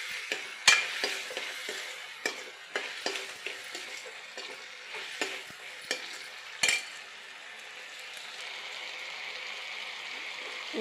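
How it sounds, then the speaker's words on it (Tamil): Eggplant sautéing in a pan for a fish curry, a steady close sizzle with sharp clinks of a spoon stirring against the pan, loudest in the first seven seconds and then settling into an even frying hiss. "கத்திரிக்காய் சேர்த்து ஒரு 2 நிமிஷம் வதங்கட்டும்"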